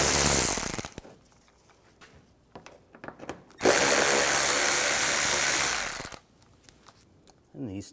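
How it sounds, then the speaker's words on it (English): Ratchet with an 8mm socket backing bolts out of a panel on a 2009-2013 BMW 328i xDrive, heard as a short burst of clicks followed by a longer steady run of rapid ratcheting, up close, with quieter taps and handling noises in between. "we'll take these bolts out using an 8mm socket"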